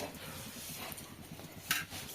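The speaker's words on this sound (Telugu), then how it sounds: "నువ్వులు అయితే ఇలా వేయించుకుంటున్నాం" Sesame seeds roasting in a pan while being stirred, a soft steady scraping and rustling with light taps of the utensil against the pan, close and fairly quiet.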